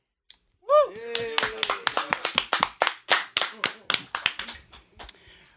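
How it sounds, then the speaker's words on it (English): A handful of people give a band a short round of clapping, sparse and distinct hand claps close by, following a brief whoop, with individual claps standing out rather than a dense crowd. "everybody join me in giving a round of applause to the first band"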